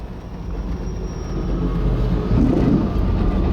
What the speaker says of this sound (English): Oh, some viewers might like to know it's the steel train.